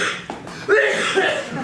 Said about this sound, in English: I'm sorry for the cough there, sir.